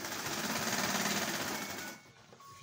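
A sewing machine stitching an agbada runs in a fast, steady close-up whirr of rapid needle strokes, then stops abruptly and leaves faint handling noise.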